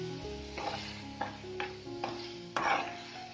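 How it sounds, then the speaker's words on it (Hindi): Peas and mushrooms stirred in a pan for a matar mushroom curry: several distinct scraping strokes of a spoon against the pan, evenly spaced, over a soft steady sizzle, with no talking. "अब मैं इसमें डालूंगा मटर, मटर डाल के इसको अच्छे से हम हिला देते हैं"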